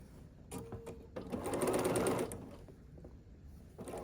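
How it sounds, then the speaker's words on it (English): Sewing machine stitching quilt block pieces together runs in a short steady whirring burst of a couple of seconds, close and fairly quiet, with soft handling noises before and after. "I'll start with these 2 pieces and start sewing them together."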